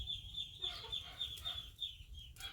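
Chickens cluck softly at an outdoor rural spot, scattered short clucks over a steady high insect-like whine and low background rumble, fairly faint, with no one talking.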